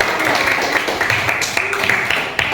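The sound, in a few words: audience applause in classroom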